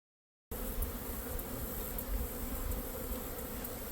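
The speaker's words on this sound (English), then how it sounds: "There's a few bees there." Honey bees buzzing at an open hive on a hot day, a dense steady hum close by that starts after a brief silence and continues alone, with no voices.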